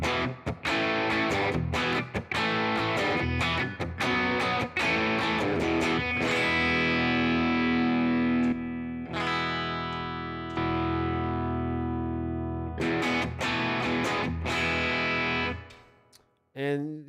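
Electric guitar played through a Fender Tone Master Pro with a distorted rhythm tone, chugging chords and sustained ringing notes that fill the clip steadily at close range, with no talk.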